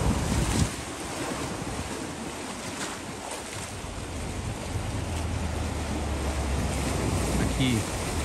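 Sea waves wash on the coast at Penha, Santa Catarina, a steady broadband surf roar with heavy wind buffeting the microphone and no speech.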